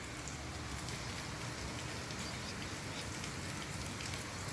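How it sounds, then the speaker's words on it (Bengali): Heavy rain pours down in a constant, full roar of drops hitting surfaces, unbroken and close throughout, with no talking. "আজকে অনেক বৃষ্টি হচ্ছে"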